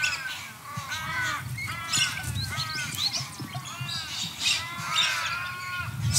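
Birds calling in Australian countryside, with harsh crow-like caws and other bird cries repeating throughout, fairly close and loud, over a bed of rustling background sound.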